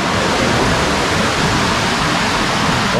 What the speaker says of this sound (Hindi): नीचे पार्वती नदी, वो बर्फ से पिघल के आ रही है। नदी का फ्लो देखिए आप, कितना बेहतरीन है।